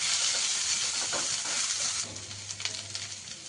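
Ginger and green chili paste frying in hot oil in a pan, a steady loud sizzle with a few soft scrapes of stirring, easing somewhat partway through.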